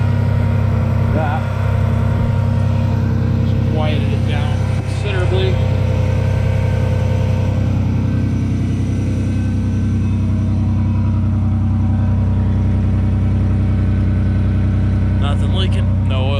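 A 1999 Ford Ranger with the 3.0-liter engine running after a start, a loud, steady close idle with a rich low rumble that holds for the whole stretch, with a person speaking briefly over it.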